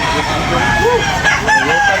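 A rooster crows twice at a busy Sunday chicken market in Tabunok, its calls rising over steady crowd murmur and background noise, with people talking nearby.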